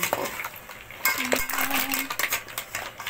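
Buttered shrimp with long chillies is stirred in a pan: a metal spatula scrapes and clatters against the pan over a faint sizzle, with one brief ringing tone.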